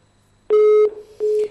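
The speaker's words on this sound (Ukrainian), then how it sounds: "Зірвався телефонний дзвінок" Busy tone on a telephone line after a dropped call: two loud, steady electronic beeps, one long and one shorter, separated by a brief gap, heard alone and close.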